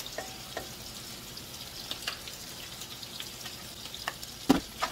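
Sausages sizzling in a pot for Haitian garden rice with smoked herring, a steady soft frying hiss broken by a few brief clinks and stirring scrapes, fairly quiet and with no talking.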